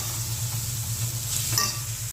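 Urad dal sautéing in a pan, a steady low sizzle running continuously with a brief brighter hiss near the end, close and moderately loud with no talking.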